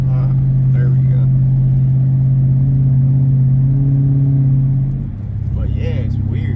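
Dodge 6.4-liter SRT8 V8 running with a suspected lifter tick or exhaust leak, a loud, close, steady rumbling drone that dips briefly near the end before picking back up as the car drives.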